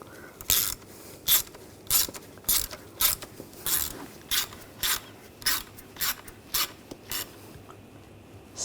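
Ratcheting clicks from a bolt being threaded in and tightened on a 2007-2013 BMW X5 3.0L inline-six during an ignition coil boot job, about fourteen short bursts repeating at a steady rhythm, close and fairly quiet.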